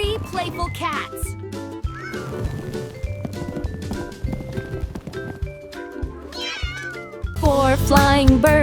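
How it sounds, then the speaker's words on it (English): Playful cartoon cats meow repeatedly through a cheerful children's counting song, the meows bright and near over busy music, with a louder burst near the end. "3 playful cats."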